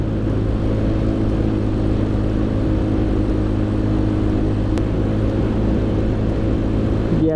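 A stock 2008 Yamaha Mio Sporty scooter engine drones steadily on the road as it accelerates, a continuous close rumble and whir throughout with no break.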